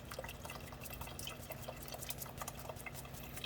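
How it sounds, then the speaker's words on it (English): Birria broth drains through a strainer that is being tapped, giving faint, close drips and small metallic knocks over a soft, steady liquid trickle. "make sure you pick up your strainer and just start hitting it and watch it all go down"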